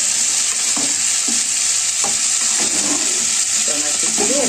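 Khichuri being stirred in a frying pan, a steady sizzle running throughout with intermittent scraping strokes of the spoon against the pan.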